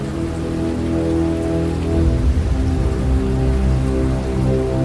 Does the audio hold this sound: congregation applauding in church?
no